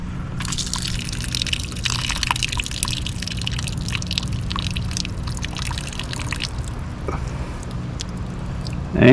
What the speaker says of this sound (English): We're going to pour off some more.